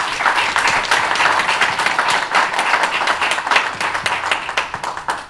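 Sustained applause for the organizers fills a press conference for a new album, a dense, loud wash of many hands clapping steadily for several seconds.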